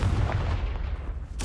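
A Confringo fire spell bursts in Hogwarts Legacy with a short, heavy boom that decays, followed by another sharp blast at the end, close and loud with no talking.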